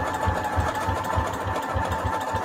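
A sewing machine runs steadily while stitching material for a junk journal spine, its low mechanical chatter pulsing in an even, rapid rhythm close by, with no talk over it.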